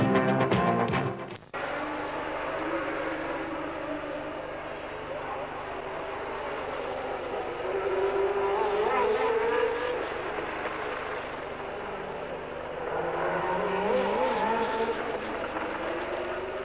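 Formula One cars at the 1979 Long Beach Grand Prix street race scream past in waves, their engine whine rising and fading twice over a steady background roar, with a voice talking over it.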